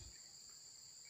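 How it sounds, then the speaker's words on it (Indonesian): A steady, high, faint drone of crickets chirping continuously at dusk in a quiet outdoor setting. "Hanya dengar kicauan burung dan unggas-unggas"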